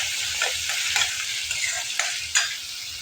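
Yogurt (curd) sizzles as it is sautéed in a pan for paneer butter masala, with a steady hiss and soft scraping stir strokes every half second or so, close up and without talk.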